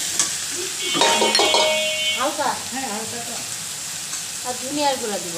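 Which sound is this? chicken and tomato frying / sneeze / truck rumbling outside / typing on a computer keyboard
chicken and tomato frying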